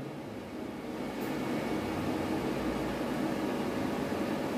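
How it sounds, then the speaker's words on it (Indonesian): Noisy cooling fan of a load bank on a 10,000-watt solar power system, a steady loud broadband whoosh that swells slightly after the first second and then holds constant without talk. "Jadi ini yang bising ini adalah kipas beban load kita ya."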